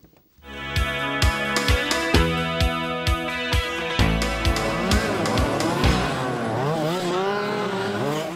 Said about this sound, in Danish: Motoren i de her mini-racere svarer til motoren i en buskrydder.